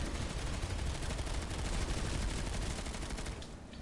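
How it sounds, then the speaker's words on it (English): Rapid automatic fire from the Orion, an accurate low-recoil gun in the video game Planetside 2, runs as a dense, loud, continuous burst that thins slightly near the end, with no talk. "So the Orion is a very accurate low recoil gun."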